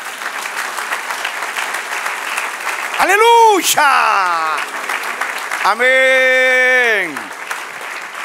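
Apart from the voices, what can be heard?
congregation applause in church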